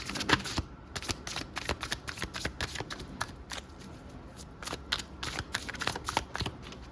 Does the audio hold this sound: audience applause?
no